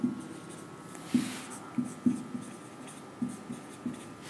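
Chalk or marker taps and scrapes across a board during a physics lecture, with a series of short, crisp strokes in an uneven rhythm, close and fairly clear over a faint room hum.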